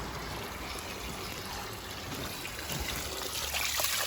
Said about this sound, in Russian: Ну и вода течет.